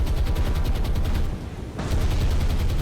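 Heavy rapid gunfire and explosions from torpedo strikes on a battleship in the naval game War on the Sea, dense and loud, with a brief dip in the middle before the barrage resumes.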